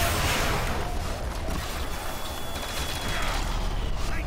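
A QED explosion effect in World at War custom zombies erupts as a dense, loud crackling barrage of blasts and shattering debris that keeps going throughout.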